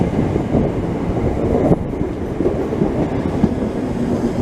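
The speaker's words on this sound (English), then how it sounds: "We have a slightly different train today." A London train rumbles along steadily with a low, continuous roar and faint rhythmic clatter, loud and close throughout.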